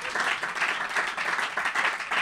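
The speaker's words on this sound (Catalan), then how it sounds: "et farem un aplaudiment" An audience claps together for a departing guest, a dense, even patter of many hands that holds steady throughout without pause.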